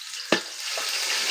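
Onions frying in hot oil in a saucepan: a steady broadband sizzle throughout, with one sharp stirring knock near the start and a softer clink later, close and fairly quiet, no voices.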